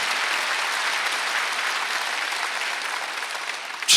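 A church congregation claps together during a Sunday worship service, a dense, even burst of applause sustained for several seconds before it cuts off abruptly.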